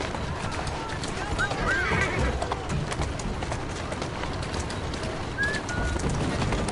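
A horse's hooves clip-clop at a walk through the streets of Victorian London in Assassin's Creed Syndicate, soft rhythmic hoofbeats under ambient city noise, birds and voices.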